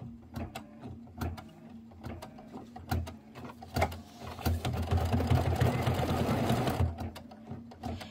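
A Kimberbell embroidery sewing machine stitches in a rapid, steady mechanical rhythm, close and loud, with brief pauses and restarts between bursts of needle action.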